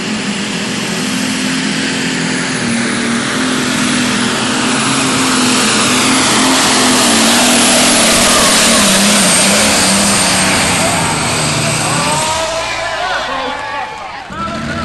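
An old Power Wagon truck roars at a county fair truck pull, its engine holding a loud, sustained drone that swells in the middle and then drops off sharply near the end, heard outdoors from a moderate distance.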